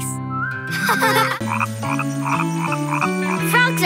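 Frog croaking in an animated children's show: a loud, close series of stepped, tonal croaks in quick succession, with no talking.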